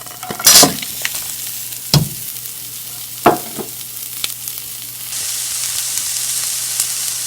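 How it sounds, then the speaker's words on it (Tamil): Onions and ginger frying in a pan: sharp scraping stir strokes and clanks over a low background, then a steady bright sizzle that takes over for the last couple of seconds. "இப்போ வெங்காயம் போட்டுக்கலாம்"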